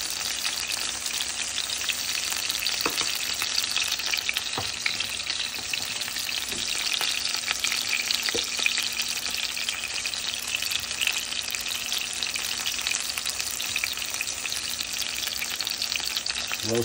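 A tuna steak fries in a pan, sizzling steadily and close with no talk. A few faint clinks or taps break through now and then.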